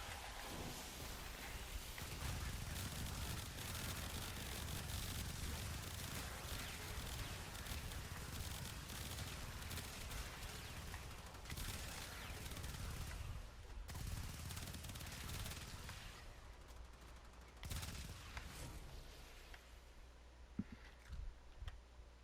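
The Dual Toxocyst pistols firing in the Warframe video game, rapid continuous gunfire in dense bursts over a heavy rumbling game soundscape, loud and close, with brief lulls toward the end.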